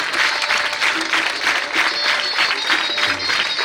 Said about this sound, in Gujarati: આપણે તાળીઓના ગડગડાટથી વધાવીએ.